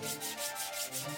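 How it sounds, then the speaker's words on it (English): Steady abrasive rubbing of sandpaper on the rusty metal body of a 55-year-old sidecar motorcycle, in rhythmic back-and-forth strokes of even loudness, close and continuous. "Next comes sanding to wear away the years of rust and neglect,"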